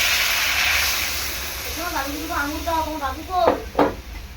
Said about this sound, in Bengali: তো এখন একটু জল দিয়ে দেবো।